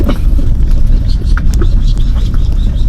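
A car drives along a steep, narrow road to a remote mountain village in the Nilgiris, its steady engine and road rumble continuous and close, with chirps and small noises scattered over it.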